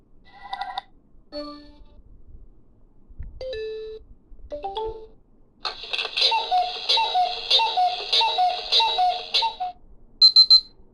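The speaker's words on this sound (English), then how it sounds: "those 28 sounds were the sounds of the Braille sense" A GW Micro Braille Sense Classic notetaker cycling through its alarm sounds: scattered short electronic beeps and tones, then a long, bright, warbling alarm melody repeating steadily, ending with a couple of sharp high bleeps.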